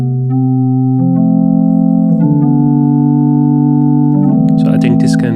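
Sustained synthesizer pad with a filter envelope and long release, holding stacked chord tones that shift partway through, with a slight wobble and a brighter burst near the end, loud and continuous with no voices.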